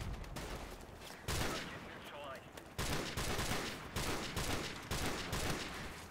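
Loud rapid gunfire in the video game Call of Duty 4: Modern Warfare Remastered, dense automatic bursts that keep coming in waves, each cut off by brief gaps.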